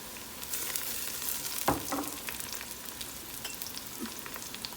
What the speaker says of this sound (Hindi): अब हम इसमें लहसुन डालेंगे।